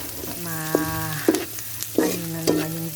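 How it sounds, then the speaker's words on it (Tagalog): Sliced bacon stir-fried in a pan while making fried rice sizzles steadily up close, with a few sharp scraping stirs of a utensil and a brief high whine in the background. "Then I add the sliced bacon. Ayan. Ayan. So stir fry lang ng kaunti."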